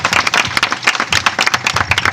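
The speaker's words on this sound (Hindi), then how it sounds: "यीशु के जलाल के लिए हम सब जोरदार ताली दें।" Loud, dense applause from a congregation fills a church service, with steady overlapping clapping throughout and no voices.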